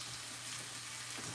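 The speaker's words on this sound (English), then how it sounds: "So I'm just browning them a little bit." Shrimp browning in a pan for shrimp and grits, a steady soft sizzle with a faint low hum underneath, continuous and close.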